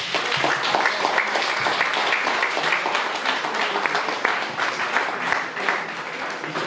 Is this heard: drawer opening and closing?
no